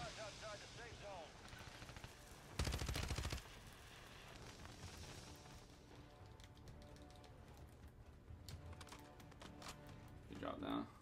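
Rapid gunfire in the Call of Duty battle royale map Rebirth Island, with a loud burst of shots near the start and scattered firing after it, heard under steady game ambience and team chatter.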